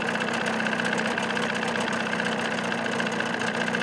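A 1979 Evinrude 35 hp outboard motor fitted with sound deadening idles steadily, making an even, pulsing mechanical drone with a light knocking rhythm. It is heard from close by and runs continuously.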